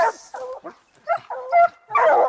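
Hunting hounds bay and yip at a bear in short, loud, close bursts separated by brief pauses, several dogs overlapping with whimpering tones.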